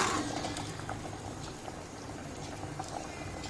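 A pot of pomfret fish curry bubbles at a steady, close boil, a continuous dense gurgling and popping with no breaks.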